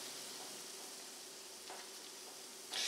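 Buñuelo rosettes fry on an iron in hot oil, giving a steady, close hiss of bubbling sizzle with faint clicks, swelling louder near the end.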